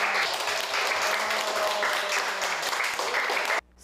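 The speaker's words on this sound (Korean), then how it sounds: "오늘 여러분들 모두 다 수고했으니까 박수 한번 칠까요?" Children clap their hands together in a classroom, a dense, loud burst of applause that lasts about three and a half seconds and then stops abruptly.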